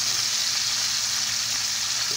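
Pork chops browning in a frying pan give a loud, continuous close sizzle with steady spitting hiss and no pauses.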